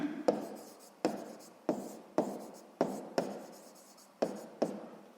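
Pen strokes on paper while writing out a sixth-grade math exercise by hand, a series of about eight short, distinct scratching marks with a sharp start to each and a quick fade, fairly quiet and close, with no talk over them.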